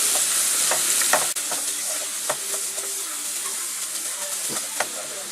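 Sliced onions fry in hot ghee for a prawn biryani garnish, a continuous close sizzle punctuated by irregular spatula scrapes and taps against the pot.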